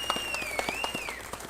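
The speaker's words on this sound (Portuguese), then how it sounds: "Põe palmas para nós aí, produção, para o pessoal da saúde." Applause for health workers, a steady patter of many hands clapping together throughout, with a sustained tone ringing underneath the crowd.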